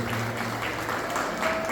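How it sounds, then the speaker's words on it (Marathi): Audience claps for committee members in a brief, moderate burst of applause, a soft, even patter of hands heard at some distance. "या सगळ्यांसाठी एक जोरदार टाळ्या वाजवू द्या."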